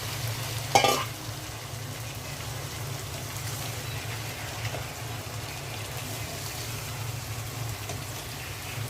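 Small pieces of beef liver hit a pan of cooked-down spiced masala with a brief clatter, then a steady, rain-like frying sizzle continues evenly throughout, close and with no talk.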